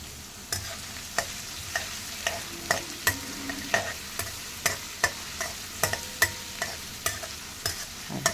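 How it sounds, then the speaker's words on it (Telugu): Garlic and finely chopped onions frying in oil in a kadai over high flame, a soft continuous sizzle punctuated by sharp, regular scrapes of a spoon stirring about once a second, close and without speech. "అది వేగుతుండగానే ఉల్లిపాయలు వేయాలి సన్నగా తరిగిన ఉల్లిపాయలు వేసుకోండి"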